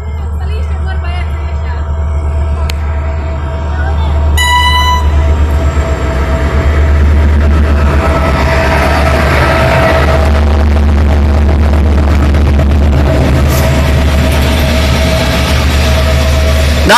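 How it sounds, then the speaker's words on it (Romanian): Regio passenger train 4114 on the Cluj-Napoca to Sighetu Marmației line passing through Săcel station in Maramureș, a loud continuous low rumble of rolling wagons with a brief horn-like tone, close and steady, with someone talking over it. "acesta este trenul Regio 4114."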